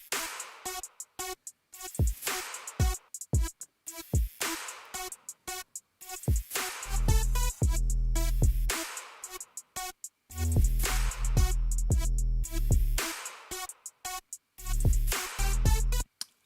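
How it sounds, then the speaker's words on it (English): Cheap-sounding electronic remix drop built on a Serum synth patch using a sawtooth wave with pulse width, loud pulsing chords over heavy low bass hits in choppy rhythmic bursts, with no talk. "It is actually pretty cheap because it's only like a serum patch with a sawtooth wave and a pulse width"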